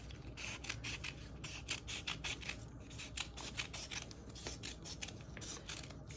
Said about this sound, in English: I then like to cut my tape into 4 strips